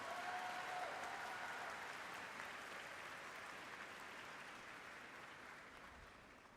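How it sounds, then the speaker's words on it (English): Applause from a commencement audience at a university spring graduation, a broad distant wash of many hands clapping that fades gradually, with no voices over it. "How about a big round of applause for your loved ones in the audience here?"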